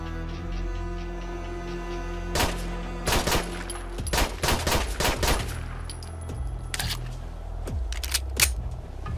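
Gunfire from the PL-14 Lebedev pistol in a Fallout 4 mod, sharp single shots fired in quick irregular bursts over a steady background hum and ambient game sound, loud and close.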